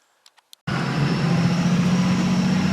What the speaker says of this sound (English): Here we are in the Cummins 24 valve in the Chevy crew cab long box, out for a nice joyride with the boys.